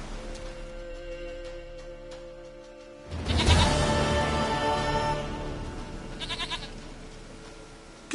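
A goat in The Witcher 3: Wild Hunt lets out one loud, wavering bleat, close and drawn out over several seconds, with a quieter ambient bed around it.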